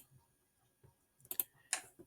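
Mouse clicks while working in Onshape CAD software on a 2D part drawing, a few sharp, quiet clicks clustered near the end after a mostly silent stretch.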